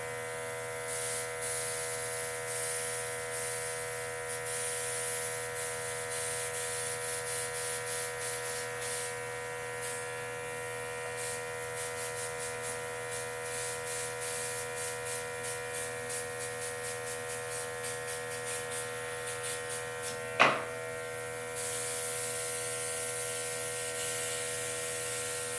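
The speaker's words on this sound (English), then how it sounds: "When I start getting impatient, I just hold the trigger down and start spraying." A makeup airbrush hums and buzzes steadily for a long stretch, a close continuous motor drone with a faint spray hiss and one brief sharp click near the end.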